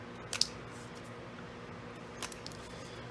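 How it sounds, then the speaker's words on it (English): Scissors snip the corners off a paper envelope in a few brief, quiet close cuts: a sharp pair of clicks near the start and a fainter snip later, with quiet room tone between. "So how I'm going to do it is snip these corners."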